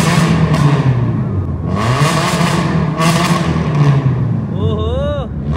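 A Hyundai Verna's engine revs inside a tunnel, a loud, steady roar that echoes throughout, with people talking over it and a brief rising, whooping tone near the end.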